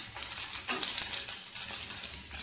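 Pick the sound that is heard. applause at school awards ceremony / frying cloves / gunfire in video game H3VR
frying cloves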